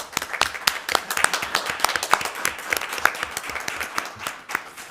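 Steady, close clapping from attendees at a fire protection district board meeting, with sharp individual claps in a continuous burst of applause lasting throughout.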